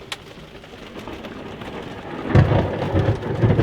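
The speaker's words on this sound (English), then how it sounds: "there's just a continuous roar of thunder" Deep thunder rumbles, swelling louder in the second half into a continuous roar, with rain pattering throughout, heard from a small sailboat in Texas.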